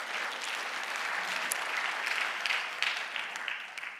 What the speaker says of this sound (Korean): 우리 다 함께 하나님께 영광의 박수